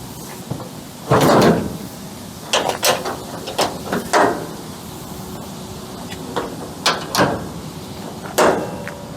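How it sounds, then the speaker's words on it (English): The tray side of a 2023 Ford Ranger XL 4x4 ute is unlatched and folded down, giving a series of sharp metallic clunks, latch clicks and rattles spread over several seconds, close and fairly loud, with no talking. "that side folds down for easy loading and unloading"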